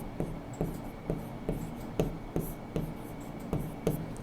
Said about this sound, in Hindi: अभी लिखता हूँ